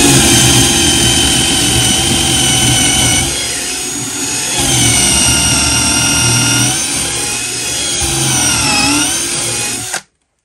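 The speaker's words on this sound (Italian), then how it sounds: "Adesso proviamo con la punta da 10 mm. Voglio provare direttamente al massimo della sua velocità." A Hychika 18V cordless drill driver runs at full speed with a 10 mm bit, giving a loud, steady high-pitched motor whine for about ten seconds with brief dips in load before cutting off abruptly.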